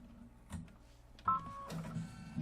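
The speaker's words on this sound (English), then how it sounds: "Thread your machine, and we're going to stitch this out." An embroidery machine stitches an accent detail on black leather for a quilted house block, giving a short run of faint mechanical whirring and tapping with brief tonal motor whines, close and alone.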